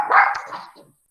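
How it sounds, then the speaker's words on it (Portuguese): A large dog barks once, loud and close, indoors at home, the short bark trailing off into a brief whimpering tail. "o cachorro também ele está latindo"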